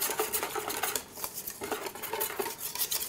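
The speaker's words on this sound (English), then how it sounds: "you're gonna wanna whisk this for a good minute or so," Pancake-like batter being whisked in a bowl, a fast continuous rhythm of close metallic clicks and scrapes against the sides, with no voices.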